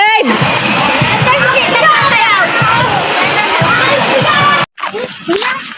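Water sloshes and splashes steadily as people bathe in a river, with voices and children's chatter mixed in throughout before a brief break near the end.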